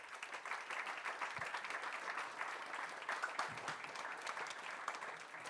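Applause from an audience at a political event on development, greeting former mayor Ricardo Gomes; steady, fairly faint clapping runs throughout with no talk over it.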